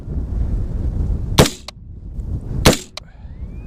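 Two sharp, loud gunshots from a Diamondback DB15 rifle firing Winchester target and practice rounds at a range, spaced about a second apart, each with a short echo.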